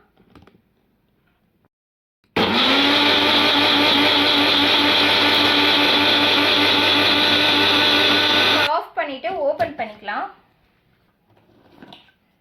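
A mixer grinder whirs loudly for about six seconds, blending eggs and garlic for mayonnaise, then stops abruptly. A person speaks immediately afterward.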